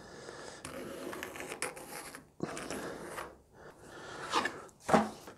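Scratchy pencil strokes on a wooden Rickenbacker 620/12 guitar body, tracing a template shape in several short bursts separated by brief pauses, close and fairly quiet.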